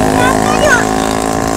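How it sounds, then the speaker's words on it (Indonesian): A motorcycle engine drones steadily close by with a constant humming pitch, while voices talk over it. "Bising motor tu kan?"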